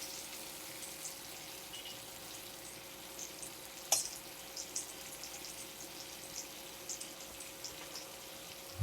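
Lamb rib chops sizzle in butter with rosemary in a pan, a faint, even hiss with occasional small pops heard alone.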